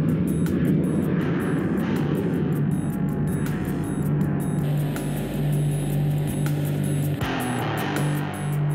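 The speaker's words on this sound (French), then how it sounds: "Voici la Marchetti SF-260, surnommée la Ferrari du ciel." A Marchetti SF-260 turboprop light aircraft flies past with a loud, steady engine and propeller drone that holds throughout, its pitch shifting slightly partway through.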